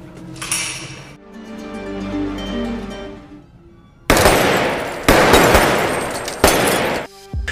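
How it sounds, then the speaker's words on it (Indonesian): Gunfire rings out in a film scene of an assassination by an apartment building's ground-floor lift, with several loud, sharp bursts that crack and echo. Quieter tonal music comes first, then the harsh blasts hit in close succession. "Avner dan Robert langsung mengeksekusi Wael Sweater di depan lift apartemennya di lantai dasar"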